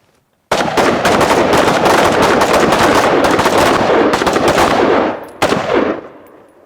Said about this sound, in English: 5 rounds to the body on my up command, shooters